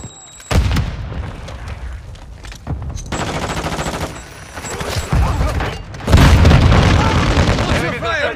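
Call of Duty: Modern Warfare 2 combat on a hardpoint map, with heavy booming grenade blasts bursting through rapid machine-gun fire and other gunfire, loud and close, while a voice calls out over the action.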